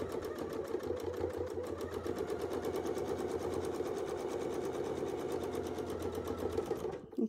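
A domestic sewing machine stitching an edge-to-edge quilt sampler whirs in a fast, even mechanical drone that holds steady for several seconds and then stops abruptly at the end.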